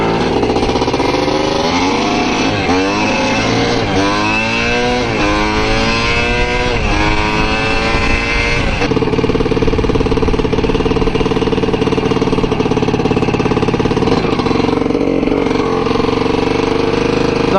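A 1981 Yamaha IT250 two-stroke dirt bike revs in rising, buzzy bursts, then settles into a steady, loud, close running note.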